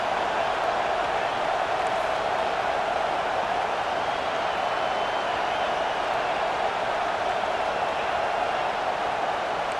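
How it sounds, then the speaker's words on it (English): At a Michigan football game against LSU, a massive stadium crowd sends out a dense, steady roar that fills the whole stretch without pause, loud and unbroken, with no single voice standing out. "listen to this crowd noise. This stadium is vibrating."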